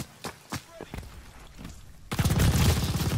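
A minigun firing in the Call of Duty: Vanguard campaign, with a few separate thumping shots and then a dense, loud rapid burst at the end, heard over game sound.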